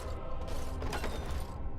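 A heavy ominous door in the video game Dragon Age Origins grinding open, a continuous creaking mechanical rumble lasting under two seconds.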